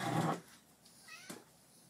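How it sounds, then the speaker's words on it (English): A tiny kitten meowing indoors, one brief mew near the start and a second fainter, short mew a moment later, close by and with no talking. "Little tiny kitty."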